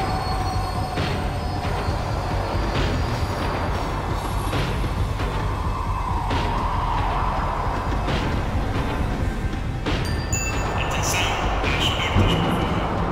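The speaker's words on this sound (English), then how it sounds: "The tram was slowing down, and I'd only just gotten on board." Tram in the video game Max Payne 3 slowing to a stop, a continuous loud rumble and rattle of rail car noise with faint clanks and squeals toward the end.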